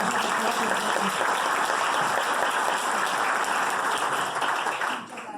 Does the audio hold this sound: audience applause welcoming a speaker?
yes